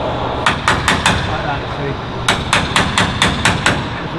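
A hammer taps brackets off the airframe of a Lancaster bomber under restoration, two quick bursts of sharp, loud metallic strikes in rapid rhythm, with someone speaking briefly over them in a workshop.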